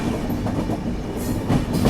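Yesvantpur–Vijayapura summer special train running on the Gadag–Wadi line, a loud, close, continuous rumble with rhythmic rattling and clatter of the carriages, no talking.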